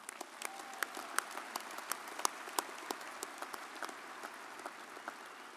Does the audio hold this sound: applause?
yes